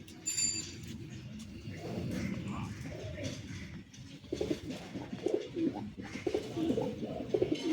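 Tippler pigeons, a lot of imported Pakistani, Madrasi and Giribaz birds, coo in low, repeated throaty rolls from close by, with a few brief chirps and a little background voice.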